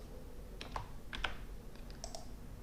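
Faint, close computer keyboard typing, a few quick key taps in short bursts against a quiet background.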